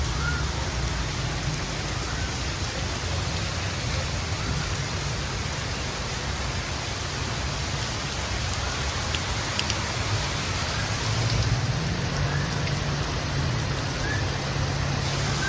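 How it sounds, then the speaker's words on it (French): Torrential tropical downpour in Ubud, Bali, a dense, continuous hiss of heavy rain pounding surfaces, steady and loud for the whole stretch with no talk. "J'ai rarement vu une averse tropicale pareille."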